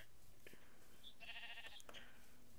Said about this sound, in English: Oh, I found some sheep